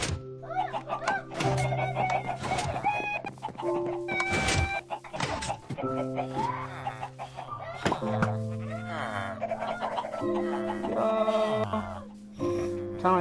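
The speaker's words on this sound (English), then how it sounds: "Sound like a chicken." Chicken-like clucking fills the scene, a dense run of varied, pitched clucks and squawks close by and loud for several seconds, with some human voices mixed in.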